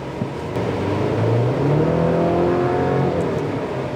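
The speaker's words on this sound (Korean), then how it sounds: "그럼 여기서 이 쉐보레 콜로라도의 가속 성능을 한번 알아보도록 하겠습니다." A Chevrolet Colorado pickup truck accelerates on the road, its engine note climbing steadily in pitch as it revs up through the gear, heard from the cabin as a moderately loud, rising hum with no talking.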